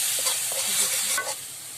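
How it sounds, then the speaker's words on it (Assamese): Ground coriander and cumin sizzle steadily in hot oil in a home kitchen pan for an egg and potato curry, with a few scraping stirs of the spoon over the continuous close frying hiss. "অলপ ধনিয়া গুড়ি, অলপ জিৰা গুড়ি দি ভাজিছোঁ।"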